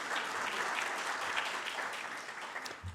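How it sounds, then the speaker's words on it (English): An audience at an athletics hall of fame awards ceremony claps for the committee, a steady, moderately distant round of applause that carries on for a few seconds. "So round of applause for that committee."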